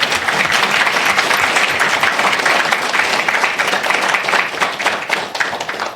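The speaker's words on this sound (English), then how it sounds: "I did not hear a warm enough applause for this wonderful panel" Sustained, dense applause from a conference audience honoring a panel on gender equality and inclusive leadership, loud and steady for the full stretch with no pauses.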